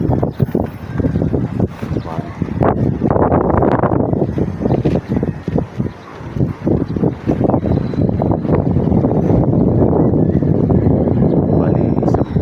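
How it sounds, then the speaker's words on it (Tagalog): Strong wind buffets the microphone at a utility pole site during ring assembly, roaring and gusting loudly and unevenly under intermittent talk. "Mahangin dito"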